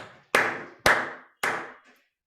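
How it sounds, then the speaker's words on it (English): Three sharp hand claps, evenly spaced about half a second apart, close and clear against a silent room. "Now if I clap, let me try clapping."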